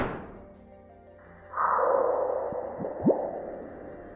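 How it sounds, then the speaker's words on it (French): A meteorite impact on Mars recorded by the SEIS seismometer, rendered as a faint low rumble that swells into a broad whooshing wash, with a few soft thuds and a rising chirp near the end. "C'était le bruit d'une météorite heurtant Mars."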